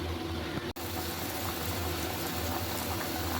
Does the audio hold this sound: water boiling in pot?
yes